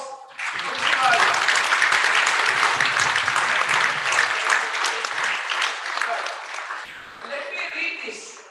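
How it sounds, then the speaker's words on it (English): An indoor audience at an association's annual general meeting gives a sustained round of applause for an award recipient, dense clapping building quickly and holding for several seconds before tapering off, with some voices mixed in. "Please give a round of applause to Brother Bali."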